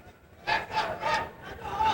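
An arena crowd at a wrestling championship boos and jeers a disputed referee's point call, swelling in several rough surges of massed voices at moderate distance.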